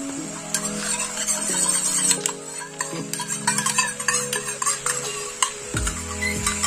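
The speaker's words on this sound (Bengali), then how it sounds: "এবার আমি ভালো করে নেড়ে চেড়ে নেবো।" A spoon stirs pumpkin curry with yogurt, salt, sugar and water in a pan, making scraping clinks and soft sizzling under steady background music, close and moderately loud.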